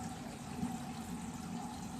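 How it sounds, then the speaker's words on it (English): Water runs steadily with a low gurgling rush as a bathroom sink empties down its drain, close by and continuous with no voices. "Release the water from the drain"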